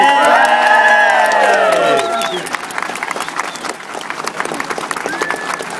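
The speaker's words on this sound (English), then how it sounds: "Big round of applause." A crowd at the 2011 Goodwood Festival of Speed breaks into loud applause and cheering for racing driver Jenson Button, starting with shouts and whoops that settle into steady clapping.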